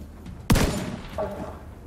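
A single loud shotgun blast in The Division 2, sharp and close, followed by a softer clatter as the sound fades.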